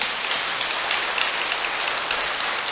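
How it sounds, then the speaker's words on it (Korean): Dense, steady applause from a hall audience at a Buddhist dharma talk, broad and even throughout with no voices over it. "정말 딱 박수 쳐야 될 때 치는 것 보니까 수준이 대단하시네요"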